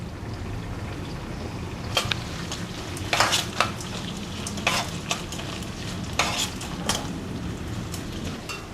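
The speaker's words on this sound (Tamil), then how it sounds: "இப்போது பச்சை மிளகா, கருவேப்பிலை சேர்த்து சும்மா ஒரு பரட்டிட்டு" Green chillies and curry leaves frying with softened onion in a pan for rava kichadi, a continuous oily sizzle broken by sharp scrapes and clinks of a metal spoon stirring against the pan at irregular intervals.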